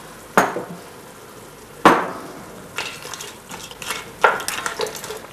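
Scallops stirred in a pan with a splash of muscadet wine: two sharp utensil scrapes against the pan, then softer stirring clatter and a light sizzle, close and without talk.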